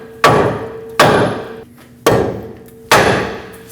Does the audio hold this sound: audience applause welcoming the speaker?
no